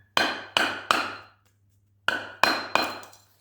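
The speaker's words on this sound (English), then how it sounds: "we need a hammer." A hammer strikes an old brick to cut it in half. Six sharp, ringing blows land close and loud, three in quick succession, then a pause, then three more.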